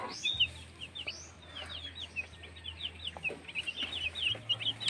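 Crowded native Bisaya chicks and broiler chicks peep and cheep in a dense, overlapping chorus of high chirps, fairly close but soft, over a low steady background hum.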